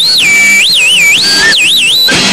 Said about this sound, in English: I blow this whistle for you